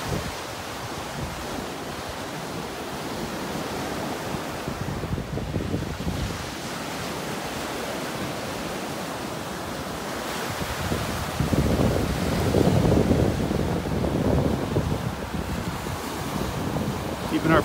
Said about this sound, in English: That's why we're having these waves.